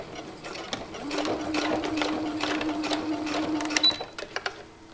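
Sewing machine stitching fabric edge under a Teflon presser foot, a steady mechanical whir with a low hum running through most of the clip and a few sharp clicks near the end, close and alone.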